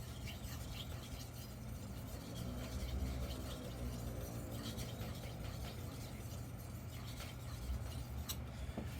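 A carbon steel knife drawn across a wet 1000 grit whetstone with a muddy slurry gives a steady, close rasping scrape that continues without pause, with no voices.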